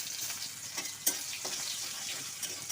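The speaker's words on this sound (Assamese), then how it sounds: "এতিয়া লাল হোৱালৈ ভাজিব লাগিব।" Garlic, three split green chilies and chopped onion sizzle steadily in hot oil in a pan, a close, continuous crackling fry with small spits and no talking.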